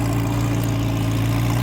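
A McLaren sports car idles at the Osaka Auto Messe, its engine producing a loud, steady, deep rumble that holds evenly throughout the moment, close by with no talking.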